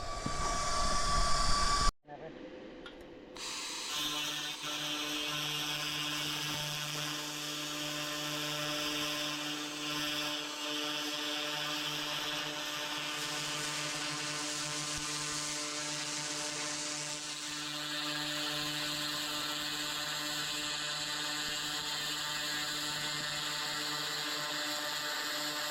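An xTool laser cleaner zapping rust off 1957 Chevy parts makes a steady high buzzing hum with fixed tones after a brief cut-out near the start, continuous and fairly close for the whole stretch.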